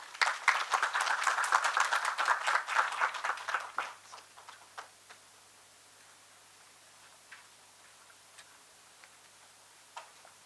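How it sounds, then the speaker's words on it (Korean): An audience at a Korean Buddhist temple food symposium breaks into brief, lively applause that fades out after about four seconds, followed by a few scattered claps. "큰 박수로 환영해 주시기 바랍니다."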